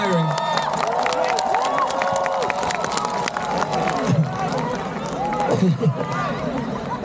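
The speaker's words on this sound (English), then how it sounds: "give a big round of applause to all the acts that played today" A large concert crowd cheers and applauds at a live outdoor show in Aizawl, Mizoram, a dense continuous roar with whoops and shouts rising over it, loud and close throughout.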